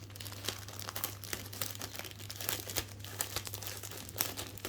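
Crinkling and rustling of a resealable plastic bag being opened to take out model aircraft kit parts for a Messerschmitt 110, close and continuous with sharper crackles, over a steady low hum.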